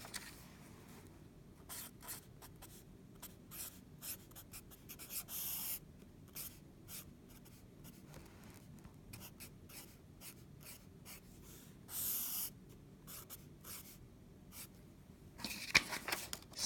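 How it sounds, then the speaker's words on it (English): Pen or pencil strokes scratch on paper in quick irregular bursts as the quadratic formula is written out by hand, soft and close with short pauses between marks. "write the formula shell."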